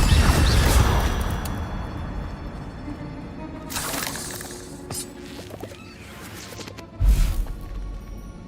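Hogwarts Legacy spellcasting with the Incendio fire spell: a whooshing, crackling burst opens loud, then softer swishes and impacts follow, with another sharp crash near the end.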